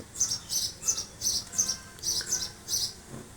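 Loft pigeons give a run of short, bright chirping calls in a steady rhythm, about eight evenly spaced bursts over a faint background, with no talking.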